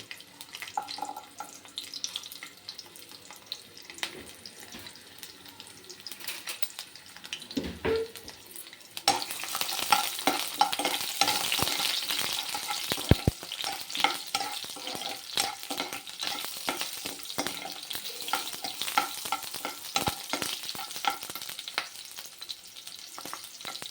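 Ginger and garlic drop into hot oil for a chicken fry with gongura, and after a quiet start a loud steady sizzle takes over, broken by scraping stirs and light clatter.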